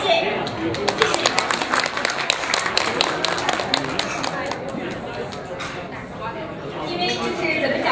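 Dense, sustained clapping from an audience at an evening gala, a steady crowd ovation with many overlapping hands and a faint murmur beneath, holding fairly even in loudness for several seconds.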